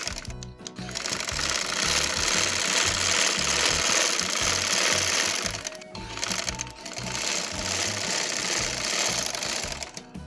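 A sewing machine runs in two long stitching bursts on a dhoti salwar seam, its needle hammering in a fast steady rhythm up close, with a short pause between runs and no talk.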